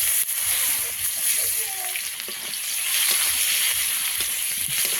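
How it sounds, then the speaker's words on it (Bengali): Black cumin seeds and a medium onion fry in hot oil, giving a constant close sizzle with soft spatters and stirring, as a voice talks quietly underneath. "ফোড়নে দেব কালো জিরে, একটা মিডিয়াম সাইজের পেঁয়াজ"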